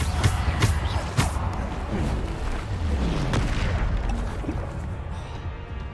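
Bombarda spell blasts in Hogwarts Legacy combat land as loud, rumbling booms with sharp crashing impacts, several in the first seconds and then a steady roar of battle noise.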